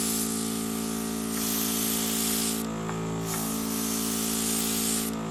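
Air hissing steadily from a JJ-110 12 volt airbrush, with a constant compressor hum underneath and brief shifts in the spray noise as the pressure is lowered to about half.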